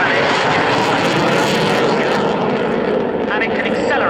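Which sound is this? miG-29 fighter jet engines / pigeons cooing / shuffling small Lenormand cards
miG-29 fighter jet engines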